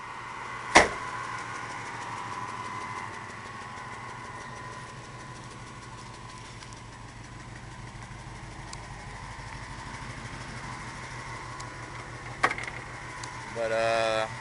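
A 1981 car engine idles steadily in the background for the whole stretch, low and even, with a couple of sharp knocks and clicks breaking in near the start and near the end.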